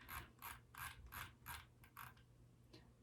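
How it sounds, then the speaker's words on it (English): A toner printer at home prints pages of a novel, giving a quiet run of rhythmic mechanical clicks and whirring feed strokes, roughly seven or eight bursts, with no voices. "before the printer runs out of toner."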